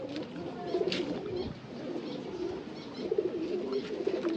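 Pigeons cooing in a loft, a soft, low rolling coo repeating in bursts, close and steady, with a few faint chirps in the background.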